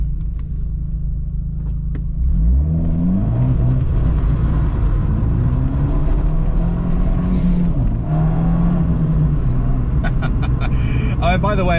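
An Abarth 124 Spider's engine revs as the car spins round, a loud close rumble with rising and falling pitch sweeps after an idling start, and voices talk over it.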